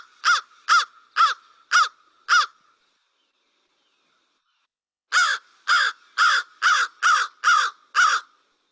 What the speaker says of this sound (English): Then we have the American crow, common crow that everybody's familiar with.